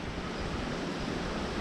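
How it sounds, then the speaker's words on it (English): Steady, roaring wind buffets a microphone outdoors at a windy spot during a tortoise house build, a continuous broadband rush with no breaks for the whole moment. "sorry about the wind, it's always windy around here."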